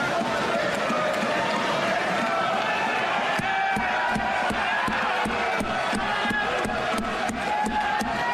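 A large crowd claps and cheers loudly, voices roaring throughout, with rhythmic clapping growing sharper and more regular in the second half.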